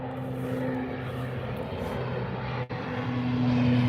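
A steady, moderately loud propeller drone from an Aer Lingus ATR 72-600 turboprop at an airport in fog, holding an even tone throughout with a brief dip, no voices.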